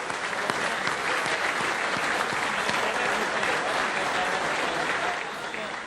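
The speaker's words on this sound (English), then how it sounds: "Ladies and gentlemen, a round of applause for Rick Wade." An audience at a presentation night gives a dense, sustained round of clapping for Rick Wade. The sound is loud and close, holding steady before easing slightly at the end.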